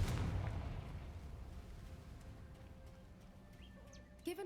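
The Confringo explosion spell goes off in Hogwarts Legacy, a loud blast that fades into a long rumbling tail, followed by faint chirps and a brief clatter near the end.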